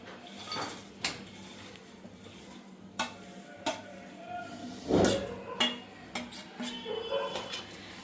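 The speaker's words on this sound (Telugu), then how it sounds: "ఇలా అన్నీ 3 వేసేసుకొని మంచిగా ఫ్రై చేసుకోవాలన్నమాట" Pistachios and cashews frying in ghee for dry fruit laddu, a faint low sizzle under scattered spoon scrapes and clinks against the pan, with a louder stirring rattle in the middle.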